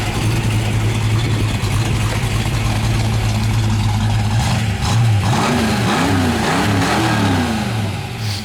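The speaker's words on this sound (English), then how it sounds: "Go ahead and rev it up a little bit, then we'll shut her down." A 1966 Ford Mustang K-Code V8 idles with a steady low burble, then is revved several times, the engine note rising and falling in loud, close bursts.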